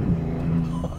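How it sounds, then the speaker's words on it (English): Maserati MC20 Cielo supercar engine with steady turbo boost whoosh under a low drone, a faint flutter near the end suggesting a blow-off valve release, loud and close throughout. "The sound of just air and boost and the blow off valve noises."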